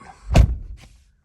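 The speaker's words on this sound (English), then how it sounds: "And we're going to open the door to simulate getting in and out." A pickup truck door swung open: one solid close thunk of the latch releasing, then a softer knock a moment later, with no talking.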